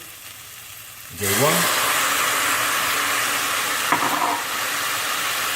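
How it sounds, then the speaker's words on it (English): Tomatoes tipped into a pan of frying sausage meatballs, a sudden loud sizzle that starts abruptly and keeps hissing steadily, with a brief stir partway and a voice speaking over it. "So we just put our tomatoes in."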